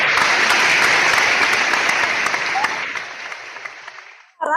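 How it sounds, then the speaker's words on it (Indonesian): Audience applause at the live launch event of Tribun Sulbar, a loud, dense clapping that gradually fades before a voice starts speaking at the end. "Saya mohon tepuk tangan untuk seluruh"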